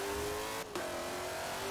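A 1968 Pontiac Firebird engine in Forza Horizon 4 holds a steady, loud drone with a brief dip at a gear change before climbing again, continuous and close.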